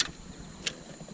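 A motorcycle gearbox clicks into gear: two short, sharp clicks, one at the very start and one about halfway through, over a quiet low background hum.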